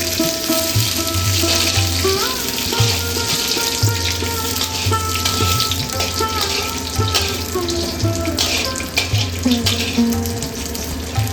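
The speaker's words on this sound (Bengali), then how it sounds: "প্রথমে 1 চামচ ঘি কড়াইয়ে দিয়ে পোলাওয়ের জন্য রাখা কাজু কিশমিশটা সুন্দরভাবে ভেজে তুলে নেব।" Cashews and raisins fry in ghee in a wok with a close, steady crackling sizzle, over a faint tonal background.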